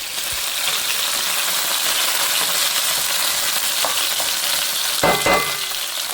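Bacon, onion and vegetables fry in a pan in a mountain cabin kitchen, giving a steady close sizzle throughout, with a few brief clinks and stirring knocks near the end.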